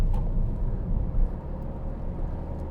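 Low rattle inside a 2014 Ford Focus 1.6 Titanium TDCI while driving, a faint intermittent buzzing under steady road and engine rumble with no voices.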